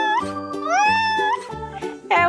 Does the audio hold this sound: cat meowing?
yes